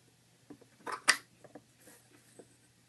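Jacknob 5020 slide latch slid along its throw, giving a few light metallic clicks and one sharp snap near the middle, quiet and close with no talk.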